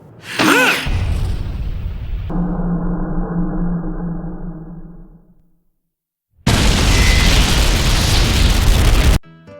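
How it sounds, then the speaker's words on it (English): A loud explosion from the anime Naruto Shippuden booms and rumbles away into silence, then another broad, roaring blast follows and cuts off abruptly. "That is a big explosion."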